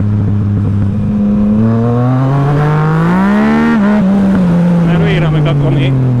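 Loud motorcycle engine at full throttle, a close, continuous roar climbing in pitch as it accelerates, then easing slightly, with a voice faintly under it.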